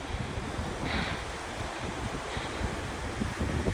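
Steady wind and surf at the open ocean, with broad continuous rushing noise and heavy wind buffeting on the microphone throughout. Nobody speaks.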